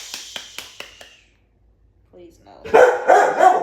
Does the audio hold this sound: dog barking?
yes